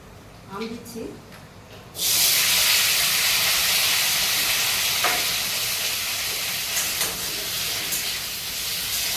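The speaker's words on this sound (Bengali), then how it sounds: "প্রথমে লঙ্কা দিয়ে দিচ্ছি, দিলাম 5 ফোড়ন, তেজপাতা, আম দিয়ে দিচ্ছি" Chillies, panch phoron, bay leaf and mango pieces hitting hot oil for mango chutney, a loud hissing sizzle bursting in after a brief quiet lead-in and holding steady, with light stirring clicks.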